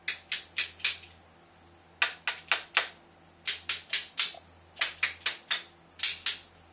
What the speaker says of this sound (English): metal on metal